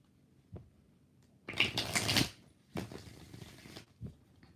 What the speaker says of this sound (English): So let me do 2 more shuffles.